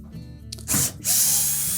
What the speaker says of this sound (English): we'll need to remove the screws for the back panel, as well as the screws that secure the side panel to the frame.